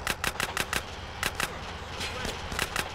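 Rapid gunfire in GTA San Andreas: bursts of sharp, close shots in quick irregular succession, loud and crackling over a noisy game background.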